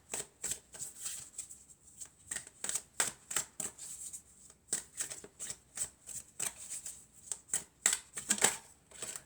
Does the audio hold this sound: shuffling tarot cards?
yes